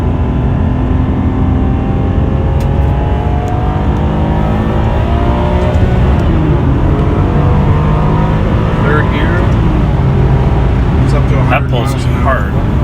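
A 2003 Ferrari 575M accelerates hard in sport mode, its V12 engine note climbing steadily through the gears in a loud, close interior drone, with someone speaking over it.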